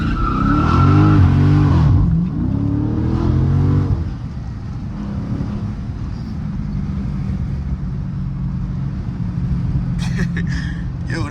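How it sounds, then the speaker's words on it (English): A Lamborghini racing past on the road, with a loud roaring engine and revving plus tire squeal in the first few seconds, then a steady close car rumble continuing to the end. "Yo, that nigga really was racing me just now. The Lambo."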